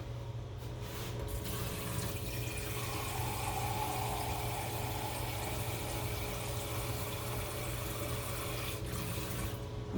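Tap water runs steadily for a long stretch in a home kitchen while Southern ham and tomato gravy is being made, a continuous broad rush with a low hum underneath and no talking.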